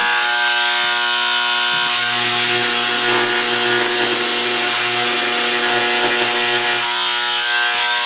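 A power tool runs steadily at speed setting 3 with a diamond-edged bit, grinding out old grout between tiles; the loud, continuous whine holds for the whole stretch, with a lower hum joining partway through.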